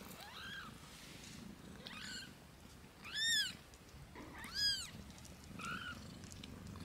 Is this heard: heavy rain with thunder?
no